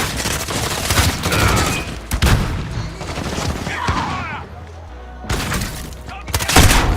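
Video game gunfire crackles in dense bursts with sharp cracks and shattering impacts, loud and close, while voices talk over the action.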